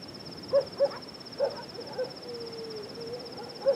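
An owl-like bird hoots in short, evenly spaced calls, five or six soft hoots over a steady faint background with a thin high tone, no speech.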